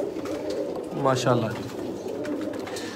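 Sialkoti pigeons coo in a single rolling call near the middle, heard close over a constant outdoor background, with someone speaking briefly.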